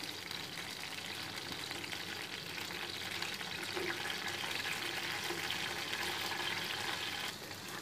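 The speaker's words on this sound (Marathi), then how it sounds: "छान आवाज होत आहे आपल्या मिरच्यांचा" Green chillies for Maharashtrian thecha roast in a pan over low heat, giving a soft, continuous close-up sizzle and crackle that stays even from start to finish with no talking.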